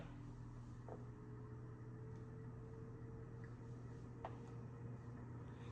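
A Seabrook 30-inch rainbow hugger ceiling fan from 2003 runs on high speed with slightly noisy bearings, giving a faint, steady motor hum with a low drone and a few soft ticks.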